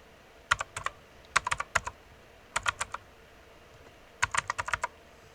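Someone types a command on a computer keyboard in four quick bursts of crisp key clicks separated by short pauses, close and fairly quiet, with no speech.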